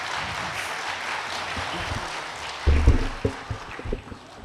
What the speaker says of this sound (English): please welcome all three of them once again with a big clap